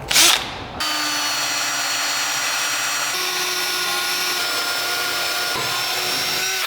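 A power drill with a bit runs steadily while modifying coilovers on a 1967 Barracuda, a loud, sustained whine after a short opening burst, with slight pitch shifts as it bites.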